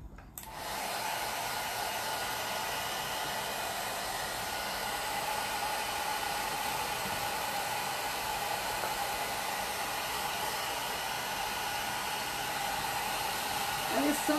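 A hair dryer blows on a plaster piece in a steady, loud, continuous whooshing roar that starts abruptly and runs unbroken for the whole stretch.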